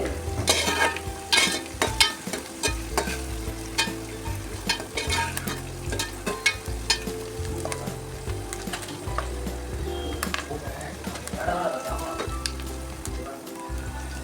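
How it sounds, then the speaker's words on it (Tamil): Onions, curry leaves and green chillies fry in a pan for a chicken gravy, giving a steady sizzle with frequent scraping and clinking stirs, close up and without talking. "நல்லா வதங்கிடுச்சு வெங்காயம் கருவேப்பிலை பச்சை மிளகாய் எல்லாம் வதங்கிடுச்சு"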